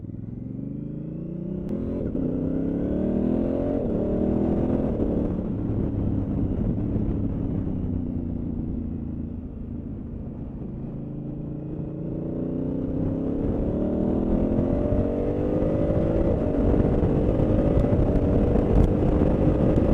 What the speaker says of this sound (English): on the auto blipper, it is so smooth changing gears.